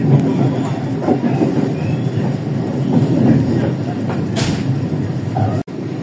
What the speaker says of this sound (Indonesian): kereta api Pasundan diberangkatkan tepat dari stasiun Lempuyangan